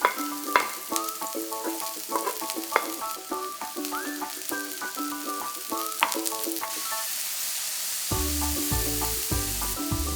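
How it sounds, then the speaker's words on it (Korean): Onion, mushrooms and shrimp stir-frying in a hot oiled pan give a steady sizzle, largely covered by a bright, melodic music track that plays throughout. "달군 팬에 기름을 두르고 양파를 넣어 투명해질 때까지 볶은 뒤 버섯과 새우를 넣고 함께 볶아줍니다"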